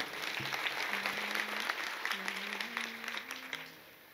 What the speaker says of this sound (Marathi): त्याबद्दल एकदा टाळी वाजा त्यांच्या नावात.